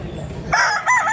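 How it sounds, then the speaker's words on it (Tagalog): A rooster crows loudly and close by in Consolacion, northern Cebu, with a harsh two-part call breaking over low background noise. "Yan na, napakagandang manok."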